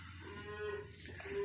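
Cattle mooing at a hay feeder on a farm, a couple of low drawn-out moos close by, moderately quiet, with no talking.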